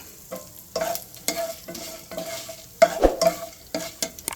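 Cumin, a small piece of cinnamon, two cloves and a cardamom pod fry in oil for chicken curry, with close spoon-stirring scrapes and bursts of sizzle in an uneven rhythm, loudest around the middle.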